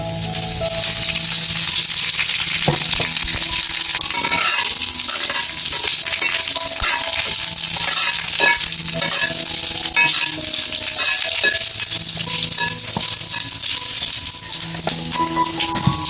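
Mustard seeds and curry leaves sizzle and crackle in hot oil in a kadhai for a traditional Konkan alu vadi recipe, a steady dense frying hiss with scattered pops throughout, close and loud, no talking.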